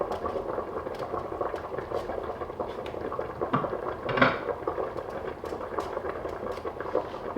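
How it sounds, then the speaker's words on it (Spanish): Vegetables for vegetable couscous simmer in a pot with a continuous bubbling, boiling sound, joined by occasional light clinks and knocks of kitchenware. "Ahora que nuestras verduras llevan una media hora cocinándose"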